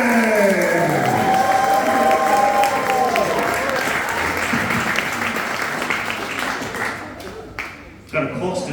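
A comedy club audience claps and cheers as a comedian is welcomed to the stage, loud sustained applause with a lingering hall tone at first, tapering off and thinning to scattered claps by the end.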